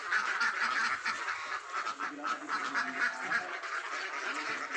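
Dense, continuous quacking and honking from a large flock of about 500 ducks on a poultry farm raising laying ducks, loud and close, with no talk over it.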